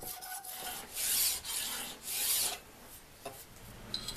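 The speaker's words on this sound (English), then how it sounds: "This was then cut into chunks using a hacksaw." A hacksaw rasps back and forth through a metal bar in two long, steady strokes, followed by lighter scraping and a faint clink at the end.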